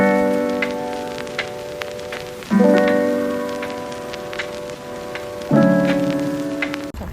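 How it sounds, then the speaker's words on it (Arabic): Rain falls steadily on the mountain slopes of Jebel Akhdar, Oman, a continuous dense patter of drops, with sustained tonal sounds rising and falling in the background. "وطبعا الحين قاعدين هنا فجأة ضرب لنا مطر"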